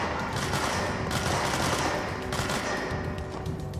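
Dense continuous gunfire and crackling bursts fill the video game Control, loud and sustained with no pauses.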